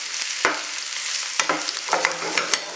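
Onion and garlic frying in olive oil that is not yet very hot, with a steady soft sizzle broken by several scraping stirs of a utensil against the pan, close and alone.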